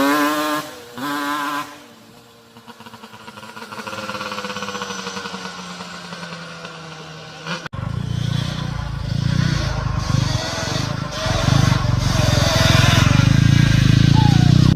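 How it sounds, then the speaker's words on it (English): A Yamaha Banshee ATV engine revs and rasps throughout, rising from a buzzing idle to a loud, sustained roar as it rides off, with a voice briefly over the start. "Now let's see my nephew the hater go for a ride for the first time on a Banshee."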